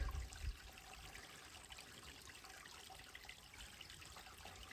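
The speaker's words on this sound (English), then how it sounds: "Got a place where water just magically flows out of the ground." Spring water trickles out of the ground at the Fort Bowie National Historic Site, a faint, steady outdoor dribble with a brief low rumble at the start.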